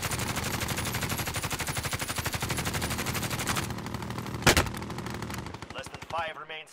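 Rapid automatic gunfire in the battle royale shooter Call of Duty Warzone, loud and sustained as dense bursts for several seconds, broken by one sharp heavy blast before the firing thins out.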